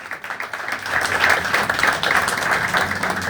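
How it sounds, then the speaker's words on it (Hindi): A church congregation applauding loudly for the Lord, dense sustained clapping from many hands throughout, close and steady with no pauses. "के लिए बजाएंगे, जोरदार तालियां।"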